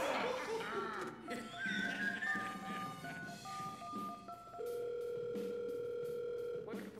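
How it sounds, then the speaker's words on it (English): A telephone rings with a steady electronic tone late in the passage, following a stretch of talking, synthesized voices and tones, and ends abruptly with a sharp click. "Okay, phone's ringing?"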